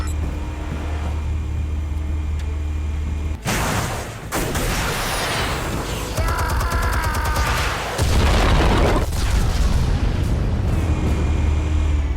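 Explosives detonate in the Batman Telltale game, a sudden loud blast cutting in over a low rumbling bed, followed by crackling debris and a second heavy burst, close and forceful with no talking.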